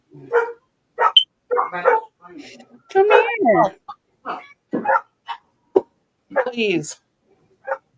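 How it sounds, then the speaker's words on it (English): Dogs bark in short yips and bursts, close by and loud, mixed with a person talking over them. "I'm supposed to do something about those dogs."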